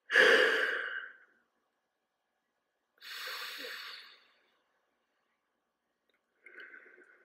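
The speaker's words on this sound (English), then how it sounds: "I need to stop yawning." Three separate breathy exhalations like yawns come from one person, each a drawn-out airy sigh about a second long, close and fairly quiet, with pauses of silence between them.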